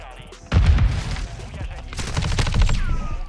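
Rapid automatic gunfire bursts from a Modern Warfare 2 match, loud and close, with a short burst followed by sustained firing over a low background.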